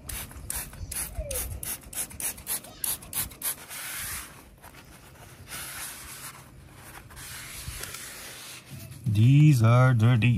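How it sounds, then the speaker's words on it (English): Tires on a camper van being scrubbed free of gunk with a Home Depot degreaser: rapid, close, rhythmic rubbing and scrubbing strokes that pause, followed by a person speaking at the end. "I'm also using this degreaser that I got at Home Depot, and see how much of the gunk I can get off the tires."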